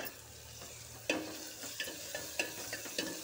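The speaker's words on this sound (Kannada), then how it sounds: "ಒಂದು ಸ್ವಲ್ಪ ಇವು ಬೆಳ್ಳುಳ್ಳಿ ಅದಾವಲ್ಲ ಚೆನ್ನಾಗಿ ಫ್ರೈ ಆಗಬೇಕು" Garlic and green chilies fry in a little oil in a pan, a soft steady sizzle broken by a few light scrapes and taps of a stirring spoon, close and without talk.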